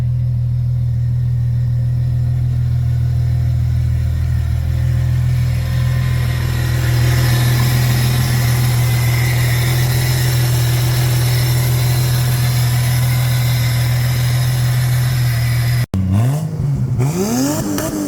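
Turbocharged VL Commodore engine idling through a 3-inch exhaust with a catalytic converter and middle muffler, a loud, steady low drone held for a long stretch, briefly cut before the idle resumes at the end.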